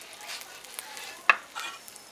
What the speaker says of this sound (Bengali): আলু বাহার করব, তার জন্য কড়াতে সরষের তেল দিয়ে দিচ্ছি।